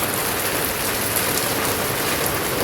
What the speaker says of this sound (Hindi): हमारे यहाँ बारिश बहुत ज़ोरों की रुकने का नाम नहीं ले रही है